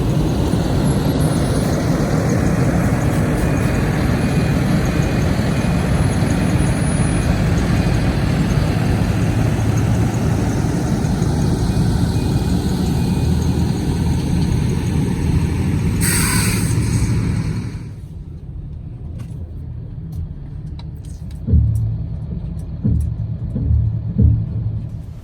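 A 2020 Newmar Mountain Aire 4551 motorhome rolling out at a Florida RV show, with a loud, steady low engine rumble that cuts off abruptly, then quieter outdoor background with a few clunks.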